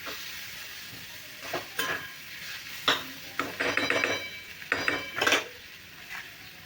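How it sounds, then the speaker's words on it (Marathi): Soft frying sizzle of tomatoes sautéing in a pan with intermittent scraping and stirring clatters from a utensil, no voices. "हे टोमॅटो पण थोडेसे आपल्याला परतून घ्यायचे."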